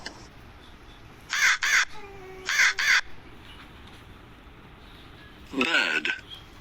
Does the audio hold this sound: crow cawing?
yes